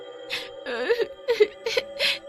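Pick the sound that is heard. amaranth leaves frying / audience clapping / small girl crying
small girl crying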